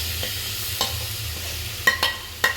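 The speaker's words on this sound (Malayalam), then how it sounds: "ഇനി അതിലേക്ക് അരിഞ്ഞ് വെച്ച തക്കാളിയും കൂടി ഇട്ട് കൊടുക്കണം" Chopped tomatoes are stirred into frying masala for chicken chukka, producing a quiet, steady sizzle broken by several sharp clinks and scrapes of a spoon against the pan.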